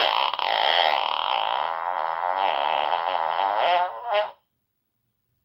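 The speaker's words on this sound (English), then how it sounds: "bought a fart button for Clubhouse" A novelty fart button plays a long, loud, buzzy fart that warbles for about four seconds, then cuts off sharply into silence.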